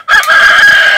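A hen gives a single loud, close squawking call that holds for most of a second.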